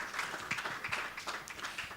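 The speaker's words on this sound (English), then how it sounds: "please a round of applause for our panelists." An audience applauding panelists at a talk, dense overlapping claps filling the space at moderate volume with no voices on top.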